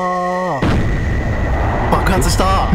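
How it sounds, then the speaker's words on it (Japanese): A loud explosion erupts in the video game Kyoei Toshi (City Shrouded in Shadow), a sudden broadband blast cutting off a sustained tonal sound and rumbling on, with a few later bursts. "爆発した。"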